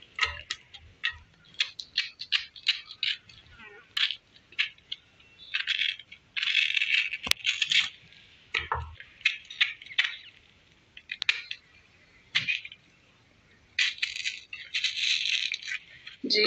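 Raw green mango is sliced with a knife and the pieces dropped into a shaker, giving close, crisp clicks and small taps in quick irregular bursts, with quiet pauses between cuts.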